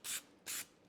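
Aerosol parts cleaner hisses onto a dirty chainsaw carburetor in two short, close bursts separated by a brief pause.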